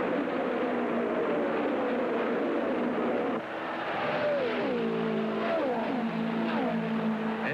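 Indy 500 race cars from 1976 roaring down the main straightaway, engines whining steadily then dropping in pitch as they pass one after another, moderately loud over a constant track roar.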